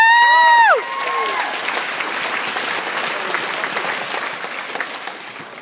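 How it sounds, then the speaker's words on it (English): Graduation ceremony audience breaking into loud, sustained applause with cheering and whoops after a short high tonal sweep at the start, the clapping staying dense and steady throughout. "I think it's time for a due round of applause"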